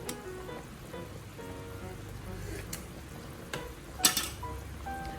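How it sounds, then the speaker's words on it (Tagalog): Bulalo beef soup with long-cut spring onion stirred in a pot, soft bubbling and sizzle with scattered clinks of a utensil against the pot and one sharper knock near the end. "Haluin lang natin ito"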